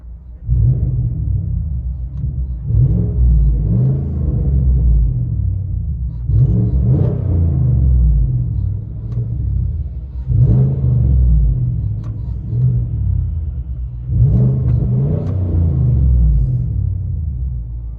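Inside the cab of a 2018 Chevy Silverado LTZ with a 6.2L V8 and dual straight-pipe exhaust, repeated revs swell every few seconds into a deep, loud rumble over a steady idle.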